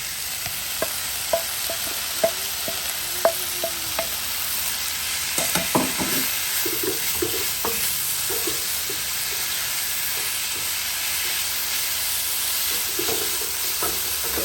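Butter sizzles in a hot pan with caramelized brown onions, a constant frying hiss under several sharp utensil clicks and taps, mostly alone with no talking.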